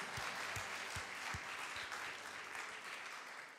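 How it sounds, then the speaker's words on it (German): A church congregation applauds during a worship service, giving a dense, steady round of clapping that fades slightly toward the end. "lass uns einfach Jesus nochmal einen richtigen Applaus geben"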